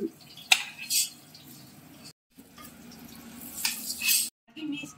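Potatoes frying in a pan with tomatoes added, a soft crackling sizzle with intermittent clatter and stirring bursts, close up, fairly quiet throughout.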